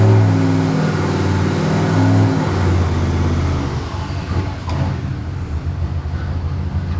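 Turbocharged car engine revving on a dyno while running lean, a loud steady high-rpm drone that holds, then drops to a rougher, uneven idle-like rumble, no talk.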